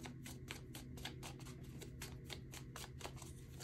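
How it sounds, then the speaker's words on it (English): Tarot cards are shuffled rapidly and smoothly, a quick even riffle of soft papery flicks, close and quiet with no talking. "this is an eerily smooth shuffle"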